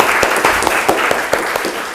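Students in a Pancasila education classroom clap together, a dense, loud run of applause with individual claps audible throughout.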